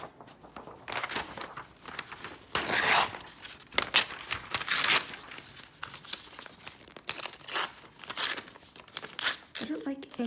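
Magazine pages are handled and torn for a stitched paper collage, with loud close rips and crinkling bursts in irregular succession, softer rustling between, and a voice briefly in the background.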